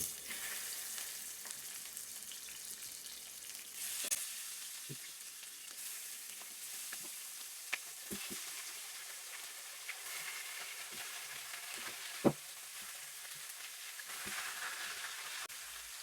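Chicken pieces frying in hot oil in a very hot frying pan, a steady close sizzle and hiss with occasional sharp pops and crackles, no talking.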